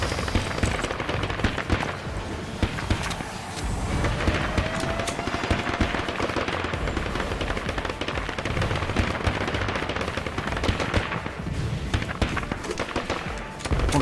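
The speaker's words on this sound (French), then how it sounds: "j'ai des balles, des roquettes, des missiles qui vont dans tous les sens" Video game gunfire from All Guns on Deck: dense, nonstop bursts of bullets, rockets and missiles crackle and boom loudly for the whole stretch, a continuous chaotic barrage.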